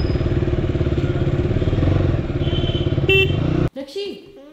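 A KTM Duke 200 motorcycle engine rumbles steadily up close with a pulsing low drone, a brief honk near the end before it cuts out, and voices over it afterward.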